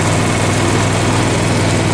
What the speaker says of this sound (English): I got this welder put back together. This is the first start of this thing.